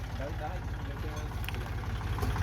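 A Kubota L4018 tractor engine runs with a steady low throbbing chug close by, rising slightly toward the end, while someone talks over it.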